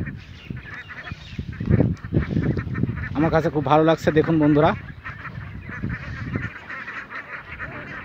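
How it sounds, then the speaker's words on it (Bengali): A farmed flock of about 1500 Campbell ducks on the Boral river bursts into a loud, close run of honking quacks midway, with someone talking before and after. "এগুলো সব ক্যাম্বেল না? ক্যাম্বেল জাতের হাঁস।"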